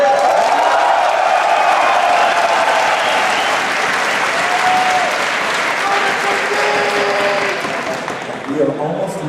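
A DreamHack Winter 2010 StarCraft grand final crowd applauding and cheering for a player, a dense, steady roar of clapping with scattered shouts that fills the hall and slowly tapers toward the end.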